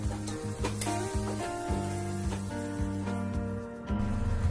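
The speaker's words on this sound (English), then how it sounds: "Now filter and add jaggery syrup. Keep the stove in sim flame and mix well." Jaggery syrup and coconut simmer on a low stove flame for a sweet coconut wheat poli, a soft sizzle running under close stirring strokes and a few light knocks of the spoon against the pan.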